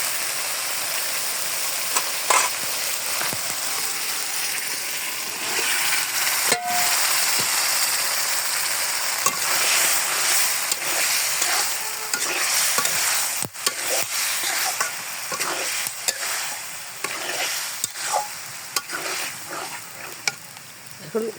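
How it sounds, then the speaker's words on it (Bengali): Broiler chicken pieces with half-cooked potatoes and spices sizzle loudly in plenty of oil in a pan, with a constant hiss broken by repeated spatula scrapes and clanks as the meat is stirred. "এখন গোশটা আমি ভালোভাবে কষিয়ে নেব।"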